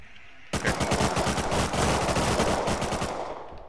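Rapid automatic gunfire from the video game Rust bursts in abruptly after a brief quiet moment, a dense, loud stream of shots rattling continuously for about three seconds before easing slightly.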